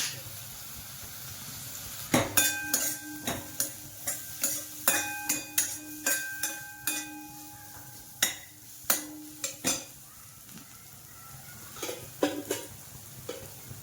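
Garam masala and curry leaves sizzling in a pan while being sautéed for homemade samosa patties, a soft frying hiss under repeated sharp clinks and scrapes of a spoon against the pan.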